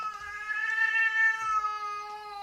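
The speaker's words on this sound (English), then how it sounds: "we have a cat here. That doesn't like that." A single cat lets out one long, drawn-out, whining meow, close and clear, displeased at being disturbed in a quiet indoor room.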